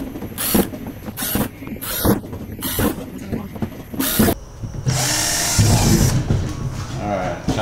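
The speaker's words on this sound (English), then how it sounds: "roughly 3/16 drill bit, and we're going to pre-drill these holes" Several short, loud bursts of a power drill boring pilot holes with a 3/16 drill bit while installing a rear hatch on a 2019 Hobie Outback kayak, separated by brief pauses and a longer run near the end.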